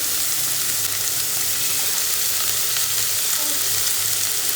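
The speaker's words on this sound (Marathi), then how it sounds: "कांदा चांगला भाजून घेणार आहे मी तेलामध्ये." Sliced onion frying in hot oil for a dhaba-style chana dal, giving a steady, close, continuous sizzle with no speech.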